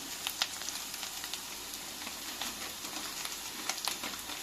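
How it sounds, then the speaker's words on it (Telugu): Cashews, melon seeds and poppy seeds frying in a pan, a soft continuous sizzle with scattered crackles and pops, quiet and close, with no talking. "టేస్ట్కి ఒక రవ్వ గసగసాలు వేసి వేయించుకోవాలి."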